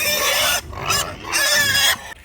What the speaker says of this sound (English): These pigs, these are George's pigs.